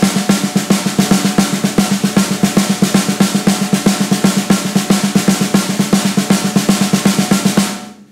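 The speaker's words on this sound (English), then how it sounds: "I'm going to play some syncopated patterns, 16th notes, straight with no buzz" Snare drum playing steady, crisp sixteenth notes with syncopated accents, each stroke clean and unbuzzed, loud and close, no voices.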